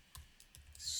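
Soft mouse clicks on a computer while choosing a screenplay template in Scrivener writing software, a few faint separate taps close to the mic and no talking.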